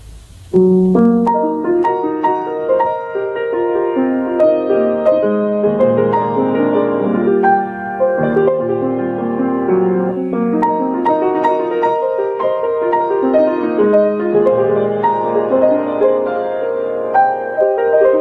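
A piano plays on its own, a flowing melody over sustained chords at an even, unhurried pace, clear and close.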